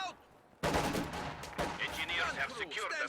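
A Maxim machine gun fires in a real-time strategy video game, a sudden burst of rapid shots starting after a quiet moment, followed by scattered battle noise and crackling rounds, with a voice commentating over it.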